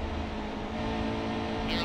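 Continuous race car engine drone from NASCAR Heat 2 at Auto Club, steady and loud throughout with a slight change near the end as the throttle eases off.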